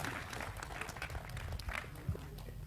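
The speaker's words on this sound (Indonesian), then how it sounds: "tepuk tangan untuk Mas" An audience applauding at a religious gathering, with scattered clapping and crowd noise under faint background murmur, fairly quiet and uneven.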